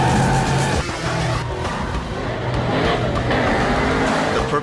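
Race cars roar through a London street race around Piccadilly in Fast & Furious 6, with loud, continuous engine noise and skidding tires close by throughout, and no talking.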